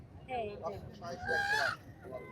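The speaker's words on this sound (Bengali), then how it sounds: "চিটাগাঙের পাহাড়ি মোরগ যেগুলো বলে" A Chittagong hill rooster gives a hoarse, drawn-out call, rising and then fading, heard up close over a faint background.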